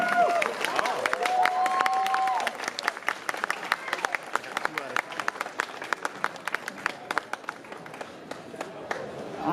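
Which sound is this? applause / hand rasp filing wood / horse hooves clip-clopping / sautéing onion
applause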